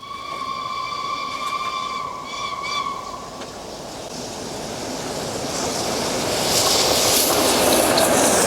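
A steam locomotive's whistle blows a steady multi-tone blast with a brief double toot, followed by rising hissing steam and rushing rumble as the train passes nearby, loud and without talk.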